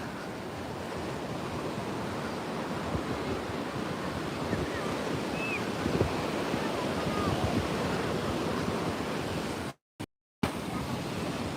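Ocean waves wash steadily onto the shore at Panambur Beach, a constant loud roar of surf with wind buffeting the microphone and a brief dropout near the end.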